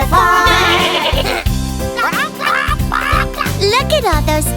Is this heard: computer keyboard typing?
no